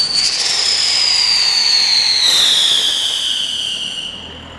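Cristal Magico fireworks by Pirotecnia Platon at the Fallas festival in Valencia let out a loud, sustained descending whistle lasting several seconds over a dense crackling hiss, close and with no speech.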